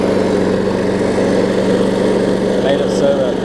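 An old Toro walk-behind lawn mower, freshly serviced with new oil and a sharp blade, runs at a steady hum, loud and continuous nearby without pause.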